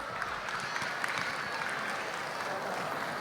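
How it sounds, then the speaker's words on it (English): Sustained audience applause at a school annual day celebration, an even wash of many hands clapping at a fairly distant, moderate level with no talk. "Give them a big round of applause."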